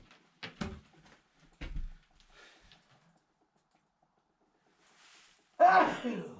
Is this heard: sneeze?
yes